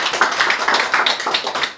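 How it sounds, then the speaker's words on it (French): A church congregation claps in a steady, dense patter of hand claps, moderately loud and continuous for a couple of seconds with no talking over it. "Applaudissons pour le Seigneur"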